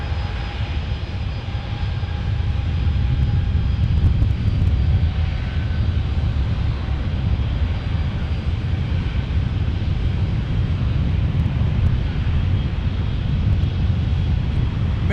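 Airliner on approach to land at San Diego airport, heard as a loud, continuous engine roar and rumble that holds steady throughout, with some wind noise and no talking.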